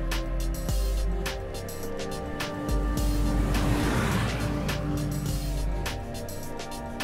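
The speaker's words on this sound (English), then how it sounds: "As the vehicle accelerates around the corner, the traction control systems, in conjunction with slip control systems, will ensure we're delivering optimum tractive effort to the road." A Jaguar all-wheel drive car accelerates around a snowy corner, its engine note rising and building into a loud surge midway before easing off slightly.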